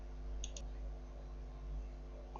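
A quick pair of crisp computer mouse clicks, close and fairly quiet, over a low steady hum, followed later by one fainter click.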